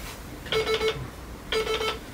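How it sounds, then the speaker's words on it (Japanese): A telephone being dialed with touch-tones to call a boss, two short bursts of three quick beeps each about a second apart, clear and close with nothing else over them. "ちょっと親分電話するから、ちょっと待って"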